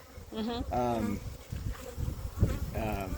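Honeybees buzzing close around a beekeeper at the hive, a steady insect drone with higher whining tones passing near, loud and continuous, alongside brief voice-like sounds.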